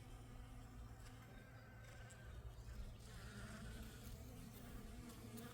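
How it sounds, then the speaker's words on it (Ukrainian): Bees buzzing steadily around blooming hellebore flowers, a continuous close hum filling the air with no speech. "Я ніби вулику. Так бджоли гудуть."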